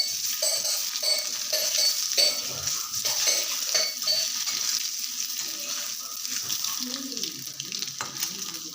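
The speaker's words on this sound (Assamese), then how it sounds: "এইদৰে ভাজি ল'লোঁ প্ৰায় হৈছে" Food sizzles and fries in a pan as gravy is cooked for an egg dum breakfast, a steady close crackle with occasional stirring scrapes and light utensil clinks throughout.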